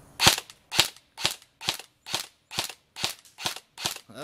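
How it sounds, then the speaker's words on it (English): A SoCom Gear N4 airsoft rifle fires nine sharp semi-automatic shots at a target. The cracks are loud and close and come at an even, steady pace, with quiet gaps between them and no speech. "she's going to shoot that target over there. Let me let it focus. And I'm going to hit it, too. Yeah, with semi-automatic fire."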